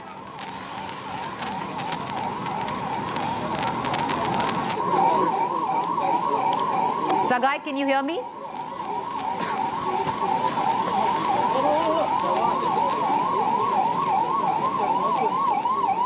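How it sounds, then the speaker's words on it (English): An air raid siren in Bengaluru blares steadily, rising and falling in a regular cycle over constant background noise, with a brief voice heard partway through. "the air siren now blaring in Bengaluru itself"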